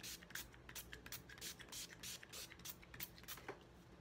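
Makeup setting spray is misted over a face in a rapid series of short pump bursts, about a dozen quiet hissing puffs in steady rhythm, faint and close.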